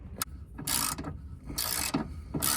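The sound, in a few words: loosening a bolt on a Subaru BRZ underbody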